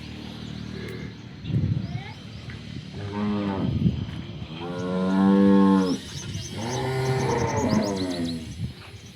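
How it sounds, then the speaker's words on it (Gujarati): Dairy cows mooing at a farm, several long, loud, drawn-out moos one after another from close by, over faint background farm noise. "4 ગાયો આવી છે આજની તારીખમાં।"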